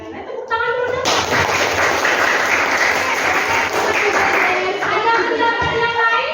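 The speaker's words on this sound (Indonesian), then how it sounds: "tepuk tangan dulu dong" A crowd claps loudly and steadily for several seconds during a teachers' coaching workshop, a dense roomful of applause that starts abruptly and holds until the end.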